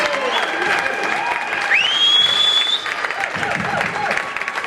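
A tribute gathering breaks into a big round of applause and cheering for Helen, with crowd noise, whistles and voices mixed throughout.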